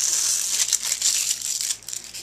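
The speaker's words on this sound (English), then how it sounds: "I did run it through my Xyron, and I'm going to go ahead and peel that back." Adhesive backing is peeled off a small paper cutout that was run through a Xyron adhesive machine. The crinkly, papery tearing is close and fairly loud and lasts about two seconds before tapering off.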